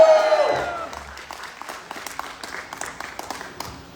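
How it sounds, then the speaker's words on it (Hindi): Scattered audience clapping at a Bhojpuri song release event, following a fading musical flourish; claps come in loose, uneven bursts rather than a full roar, moderately near and without talk. "एक ताली बजा के बता दीजिए"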